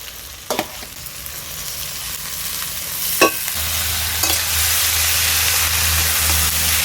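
Banana flower goes into hot spice paste in a pan and fries with a steady, loud sizzle. Occasional stirring scrapes are heard, and the sizzle grows fuller and deeper partway through.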